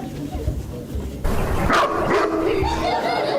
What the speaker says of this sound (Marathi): अरे कुत्रा आहे